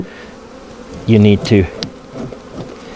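Honeybees on nectar-filled hive frames give off a loud, close buzz that swells in two short bursts, then fades to a faint hum while a voice speaks briefly.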